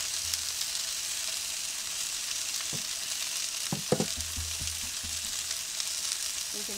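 Black sea bass sizzles over an open wood fire, a steady close hiss with a few sharp crackles and pops near the middle.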